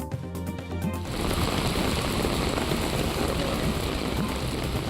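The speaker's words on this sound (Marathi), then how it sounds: "पश्चिम भागात मुसळधार पाऊस आहे।" Heavy monsoon rain pours down in a steady, dense hiss that starts after a brief opening sound and continues unbroken and fairly loud.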